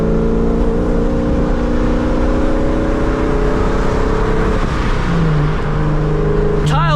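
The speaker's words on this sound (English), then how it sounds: "50mm blow-off valve, that like swooshing noise sounds so sick" NewEdge Mustang with a 50 mm blow-off valve, its engine droning loudly and steadily under talk before a brief airy swoosh near the end.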